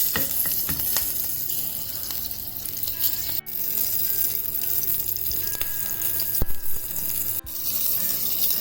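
Dense, crackling sizzle of mustard seeds with asafoetida and green chilies spluttering in hot oil, loud and close, with scattered sharper pops throughout.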